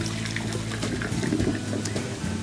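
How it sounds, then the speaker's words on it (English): Cold tap water runs steadily over boiled eggs in a kitchen sink, a continuous close splashing rush with slight swells, no voices. "Keep running cold water over them."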